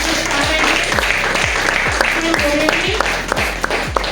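Applause rises from an audience at a Diwali celebration, steady and dense clapping from a crowd.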